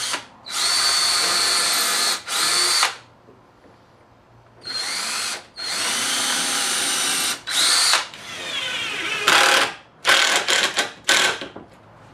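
A power drill drives number 8 two-inch screws into the corners of a wooden Murphy bed frame, several loud close whirring bursts of a second or two separated by short silences, ending in quick stuttering pulses as screws seat.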